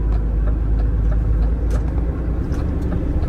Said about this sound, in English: Come on, truck, get going. Bit of wheel spin there around this horrible bloody island.